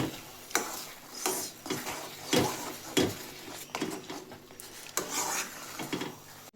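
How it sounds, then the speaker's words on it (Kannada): Jackfruit paste being stirred into a thickened mixture in a pan for jackfruit holige, with repeated scraping and clanking of a utensil against the pan, close and fairly loud, in irregular strokes with no voices. "ಈಗ ಇದ್ರೊಳಗೆ ಇದು ಹಲಸಿನ ಹಣ್ಣಿನ ಪೇಸ್ಟ್ ಹಾಕೋಣ. ಹಾಕಿ ಎಲ್ಲ ಮಿಕ್ಸ್ ಮಾಡೋಣ."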